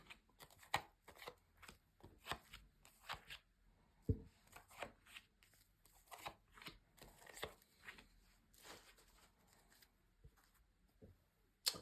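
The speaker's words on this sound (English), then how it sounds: "let's just lay down your 10 cards on the table" Tarot cards laid down one after another on a table, a series of soft, close taps and slides with short pauses between, quiet and without talk.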